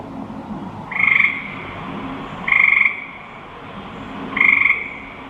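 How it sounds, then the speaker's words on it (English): Three loud frog croaks spaced about every one and a half seconds, each a short raspy burst, over a quiet steady background hum. "it's a frog"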